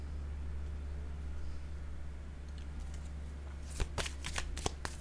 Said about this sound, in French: Je vais déposer une carte, je pense, pour ici.